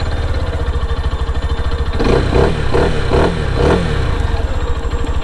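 A stock-exhaust Lifan KPR200 motorcycle starts and settles into a loud, steady mid-pitched idle, with a few short blips of revving close by.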